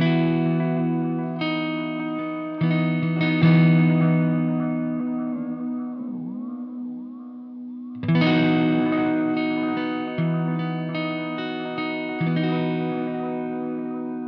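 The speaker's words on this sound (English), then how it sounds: "a regeneration of the Doctor pedal, which was like a lo-fi delay" An electric guitar plays sustained notes and chords through the lo-fi delay of a Wampler Metaverse multi-delay pedal, with warbling, pitch-wobbling repeats trailing off between phrases.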